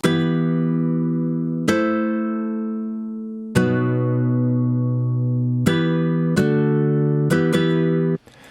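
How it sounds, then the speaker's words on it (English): Virtual nylon-string guitar chords from a Kontakt sample instrument are strummed one after another, each ringing out warmly before the next, with quicker strums toward the end. "how to create a realistic sounding nylon guitar strum using Contact"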